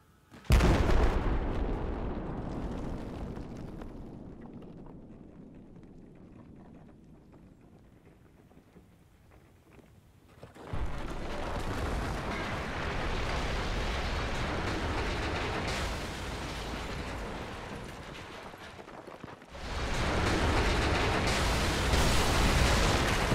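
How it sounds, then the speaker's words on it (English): In Battlefield 4, a warhead detonates and topples a huge smokestack. A sudden massive boom rolls into a long fading rumble, and then heavy roaring collapse debris returns twice in loud sustained waves. "it will detonate the warhead, which in turn brings down the smokestack"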